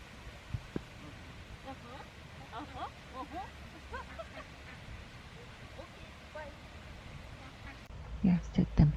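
Ducks quacking by a garden pond in a rhododendron garden, with scattered calls throughout and a louder burst near the end, against outdoor ambience and occasional nearby voices.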